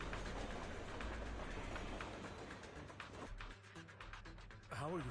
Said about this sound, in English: Let's just move the train.